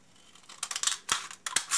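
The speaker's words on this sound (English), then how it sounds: "An old pair of scissors are quite man enough for slitting these through" An old pair of scissors slits through a thin aluminium beer can, a few close, sharp metallic snips and scraping crunches in quick bursts, no voices.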